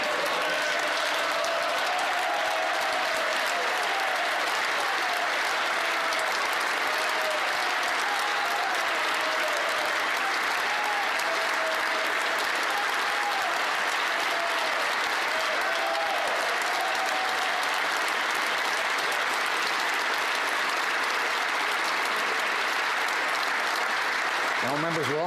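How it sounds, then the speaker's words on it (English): Sustained, dense applause fills the House of Commons chamber, a steady roar of many hands clapping that holds evenly throughout, with faint voices beneath. "members will also want to applaud because with him is Dr. James Orbinski"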